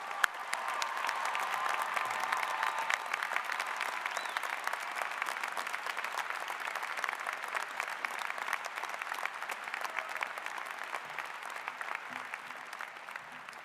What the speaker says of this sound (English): Belle, would you please stand so that we can applaud your courage?